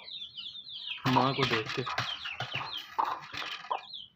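Hens in a backyard coop on a hot summer day, clucking and squawking as they are caught, short agitated bursts close by with bird chirps, while someone talks over them.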